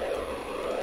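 Tomy Tronic Top Shot Pilot electronic toy plane giving a steady droning engine effect, faint and continuous for under a second with no voices.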